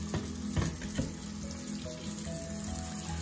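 Warm water runs steadily from a tap into a kitchen sink for washing up by hand, a continuous close splashing rush that holds level throughout with a few faint clinks and no talking.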